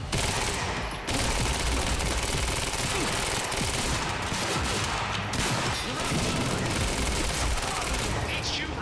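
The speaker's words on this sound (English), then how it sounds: "Maybe stop shooting at me." Sustained bursts of rapid automatic gunfire in the game Quantum Break, loud and dense throughout with brief gaps, while a voice speaks over the shooting.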